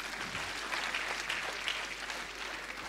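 Audience applause at a national business convention, a brief burst of steady clapping from a seated crowd, moderately distant and even throughout.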